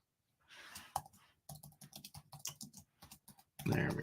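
Key clicks on a wireless computer keyboard with dying batteries, a quick irregular burst of close taps followed by a louder rustling thump at the end.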